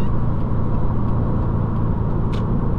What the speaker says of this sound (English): give you a chance to hear the vehicle open up under a little pressure